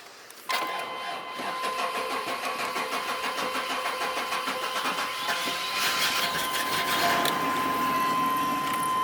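A Chevrolet Suburban that has sat unused for a while cranks briefly and catches, then settles into a steady, fairly loud idle with a faint high whine running through it, close by and with no talk.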